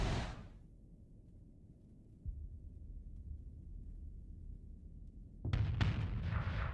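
Grenade launcher bombs from the Starsector game burst in, with a sudden loud cluster of sharp explosions after a quiet stretch of low rumble, several blasts overlapping near the end.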